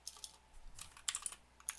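Several quick, soft clicking keystrokes on a computer keyboard while typing an ls -l command, scattered taps in a quiet room with no voices.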